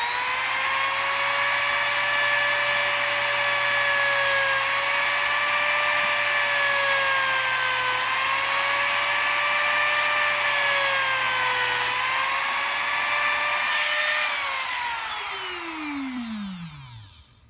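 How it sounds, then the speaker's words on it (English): A power drill bores into a modded Doc Ock figure part, its steady, loud, high-pitched whine holding for about fourteen seconds before it winds down and fades out. No one speaks. "And now we're going to go ahead and drill."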